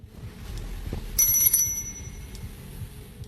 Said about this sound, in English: It rang a small bell as if trying to sense something.